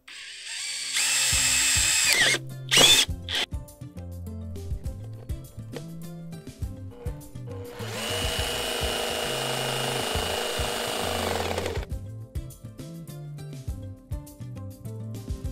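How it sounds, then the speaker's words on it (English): A power drill bores through vinyl plank flooring near a vent cover, with a whining burst early on, a brief gap, then a steady grinding run of several seconds, heard close over quieter background noise. "I'm going to have to use my drill bit first so that my blade can fit in"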